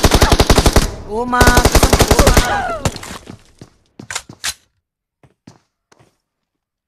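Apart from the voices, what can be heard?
gunfire, cover fire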